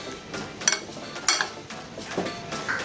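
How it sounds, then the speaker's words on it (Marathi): Cooked potato wedges being mixed with strained garlic oil in a bowl, soft scraping and a few light clinks of utensil against the dish, quiet and close. "हे आता आपण छान मिक्स करून घेऊयात"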